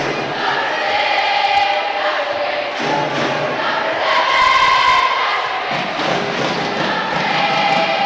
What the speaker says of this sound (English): The Longford crowd continue to entertain us here as they sing along.